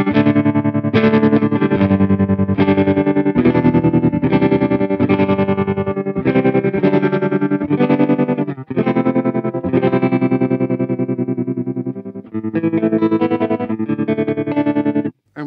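An electric guitar runs through an Electro Harmonix Stereo Pulsar tremolo pedal, playing loud distorted chords whose volume throbs in a steady rhythmic pulse, with brief gaps between phrases.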